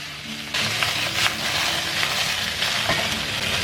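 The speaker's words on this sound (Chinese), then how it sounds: "我们再下入鱼骨鱼头哈， 保持中大火煎。" Fish bones and a fish head fry in oil in a smoking-hot iron wok over medium-high heat, giving a steady close sizzle that swells suddenly as the pieces go in and stays dense throughout.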